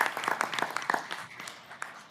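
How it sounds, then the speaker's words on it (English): Audience at a city council meeting claps for neighborhood representatives, a scattered round of distinct hand claps that starts strong and thins out toward the end. "you all should applaud them"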